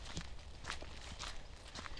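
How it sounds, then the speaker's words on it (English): Footsteps picked up by a vlog microphone outdoors, a steady series of close, soft-edged steps about every half second over a low rumble of background noise. "I'll keep quiet so you can listen to my footsteps a little bit"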